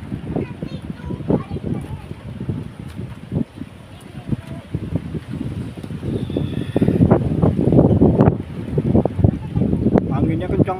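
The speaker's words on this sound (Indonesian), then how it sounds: "Anginnya kencang banget, guys." Strong gusting wind buffets the microphone on a beach, with rumbling low roar and surges that grow louder toward the end, while voices talk intermittently over it.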